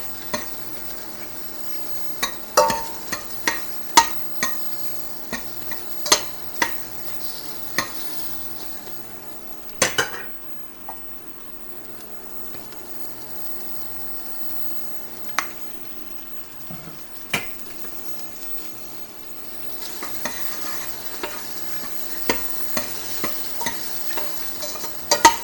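Mushrooms sauté in a pan for ramen, a soft steady sizzle broken by repeated sharp scrapes and knocks of stirring, with a quieter stretch midway before the clatter picks up again.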